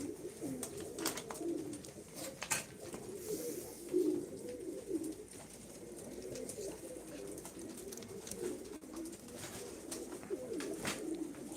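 Soft, repeated pigeon cooing with low throaty calls overlapping, fairly faint with some light background noise.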